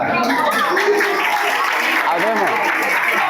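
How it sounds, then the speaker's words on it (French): An audience claps loudly and continuously while voices call out over the applause. "Donc vous devez applaudir pour ça."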